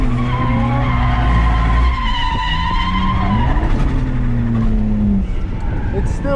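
An E46 BMW wagon drifts on a dry track at a drift event, with loud, sustained tire squeal and skidding over a straining engine that rises and falls in pitch, and a voice speaks briefly over it.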